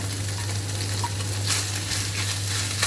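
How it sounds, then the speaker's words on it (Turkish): Onions sauté with chicken in a pan, giving a steady, even frying sizzle with light stirring and no voices. "Soğanlarımız renk değiştirinceye kadar kavuracağım."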